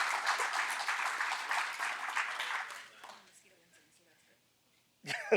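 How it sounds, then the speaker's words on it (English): Audience applause fills a town meeting hall, a dense patter of clapping that fades out over about three seconds, leaving near silence before a person begins speaking. "give her a round of applause, please"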